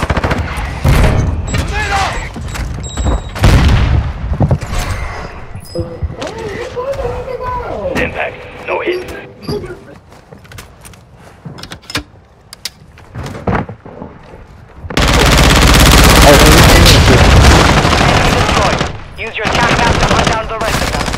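Call of Duty combat with machine-gun bursts and sharp gunshots, loud and close, mixed with radio voice callouts and explosions, ending in a long sustained roar of fire.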